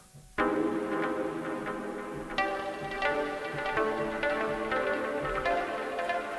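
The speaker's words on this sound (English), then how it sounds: "the sort of sounds that it makes are like this one's called A Frozen Frame" Frozen Frame patch from an Emulator sampler: a sustained, shimmering synth texture with layered harmonic tones and soft repeated swells, played alone at a steady level after a brief quiet start.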